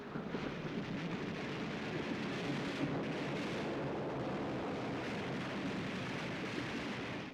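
Anti-aircraft gunfire and explosions aboard a WWII aircraft carrier in Pacific combat, a dense, faint, continuous rumble of firing and blasts blurring into one noisy roar.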